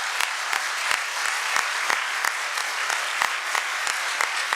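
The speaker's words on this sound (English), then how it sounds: "One last round of applause for our candidates." An audience at a municipal mayoral election debate in Antigonish gives the candidates a round of applause, a dense, steady clapping with sharp individual claps standing out, filling the room.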